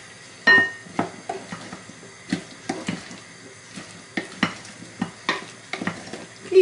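Potatoes and chives being stirred in a frying pan, with a series of irregular close scraping and clacking strokes against the pan over a faint background sizzle.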